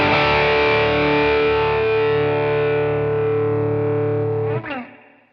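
Electric guitar played through a Joyo American Sound pedal with the voice knob high, giving a driven, mid-heavy tone; a sustained ringing chord holds for over four seconds, then cuts off with a brief scrape and fades out.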